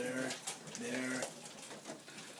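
Pigeons in a loft cooing in low, repeated throaty calls close by, forming a continuous murmuring chorus.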